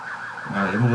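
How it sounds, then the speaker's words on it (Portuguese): An ambulance siren wails in a short rising sweep, fairly loud and growing closer, heard briefly over faint room sound. "Ambulância."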